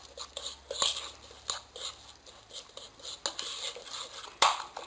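Pieces of chicken are tossed and mixed by hand with olive oil and lemon juice in a bowl, giving wet squelches and scattered clicks of the bowl at an uneven rhythm, close and fairly soft, with no speech.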